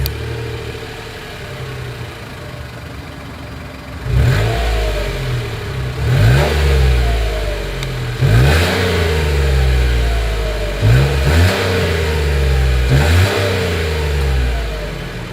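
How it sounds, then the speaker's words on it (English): A 2022 Mitsubishi Mirage G4's engine idles, then its exhaust revs sharply several times, each rev climbing and falling back, close and loud with no speech. "As always, here is that exhaust clip."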